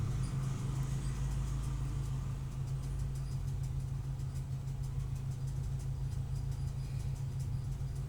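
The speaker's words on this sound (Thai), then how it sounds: "ขับรถกลับมาถึงใกล้ถึงบ้านแล้วค่ะ" A car driving home along a rural road near Phu Wiang, Thailand, with a steady low engine rumble and road noise that stays constant and close throughout, no talking.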